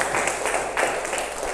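A classroom of students claps for group B, a dense broadband patter of many hands sustained throughout, fairly steady with slight swells, without speech over it.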